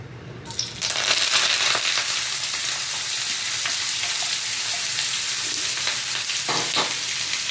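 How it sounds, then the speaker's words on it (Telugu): Oil sizzles loudly in a frying pan for a south Indian iguru, a dense steady hiss of frying that sets in after a brief start and holds evenly to the end, with no voices. "ఇప్పుడు దానికోసం ఆయిల్ వేస్తానండి."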